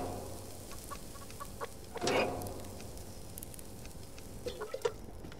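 Chicken in the survival game Subsistence, giving a few faint clucks and one brief louder squawk over a quiet hissing background, with no voices.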